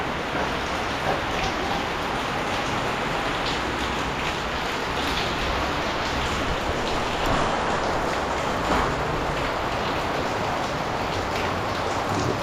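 Steady rain hisses continuously across the whole stretch at a construction project in Olongapo, an even wash of falling drops at moderate level with no voices.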